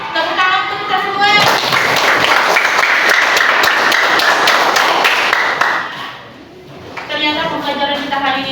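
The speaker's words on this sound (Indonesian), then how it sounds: "Tepuk tangan untuk kita semua." Students in a classroom clap together in a dense burst of applause lasting several seconds, with talking before and after the clapping.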